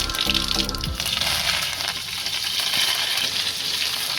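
Mustard seeds and cumin sizzle in a spoonful of hot oil for tempering, a bright continuous crackle and hiss with a few sharp pops near the start, close and fairly loud throughout.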